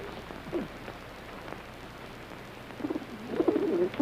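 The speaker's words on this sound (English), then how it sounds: "A pigeon." A pigeon cooing nearby, several soft low coos that grow a little louder and busier toward the end, set against faint background hiss.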